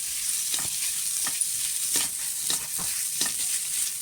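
Jackfruit curry frying in a pan with ground red chilli, cumin and coriander powder produces a continuous close sizzle, broken every half second or so by stirring scrapes. No one speaks.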